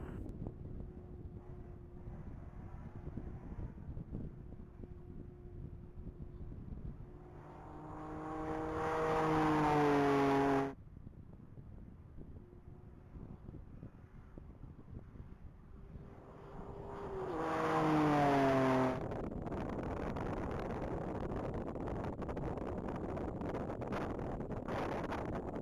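A BMW 330i racing flat out on a mile-long top-speed course swells in twice with a rising engine roar under heavy wind noise, passing from distant to near.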